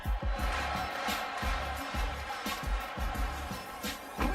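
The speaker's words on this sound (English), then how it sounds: "a crowd with a standing ovation" A basketball arena crowd rises in a standing ovation, a faint, distant roar of cheering and clapping with repeated low thumps beneath it.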